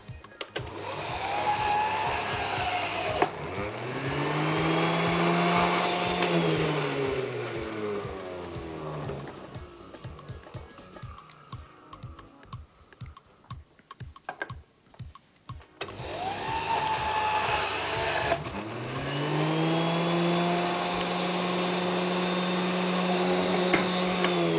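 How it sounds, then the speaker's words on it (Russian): A kitchen blender whirs loudly blending kiwi pieces, revs up and down, pauses into rattling pulses, then roars steadily again near the end. "Сначала помещаем кусочки очищенного нарезанного киви в машину."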